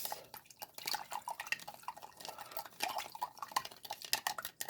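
A spoon scrapes and clinks against a bowl while mixing a wet German potato salad for canning, with irregular soft clattering strokes up close.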